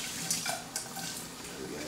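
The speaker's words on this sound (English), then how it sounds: "you bring them over to the sink. Hot water," Hot tap water runs steadily into a sink as boiled bass strings are rinsed of soap, a constant close hiss of flowing water with a few light splashes.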